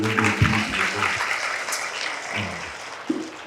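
Audience applause at a Tamil stage arts program, a broad steady wash of clapping running the whole stretch, with a voice speaking faintly underneath near the start and again briefly toward the end.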